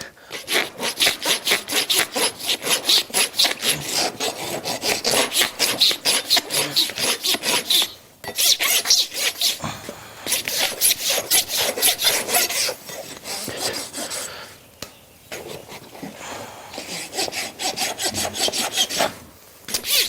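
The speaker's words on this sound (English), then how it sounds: "I'll only be taking just a few rasp strokes here on this lateral side." A farrier works a rasp over a horse's hoof wall in quick, rhythmic rough strokes, loud and close, with a few brief pauses between runs.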